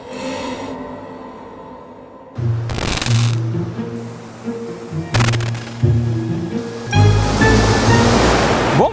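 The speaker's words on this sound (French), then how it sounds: "me voici devant les cascades de Yutaki" Yutaki waterfall in Nikko, Japan, pouring as a steady broadband roar, with louder surges of rushing water and a few sharp close knocks or footsteps in between.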